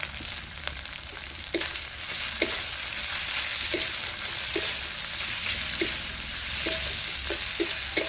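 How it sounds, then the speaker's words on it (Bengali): Chopped onion sizzles steadily in hot oil in a pan, a dense crackling hiss that runs throughout, broken by a few soft knocks of stirring, with no voices. "এটা একটু লাল লাল ভেজে পেঁয়াজটা"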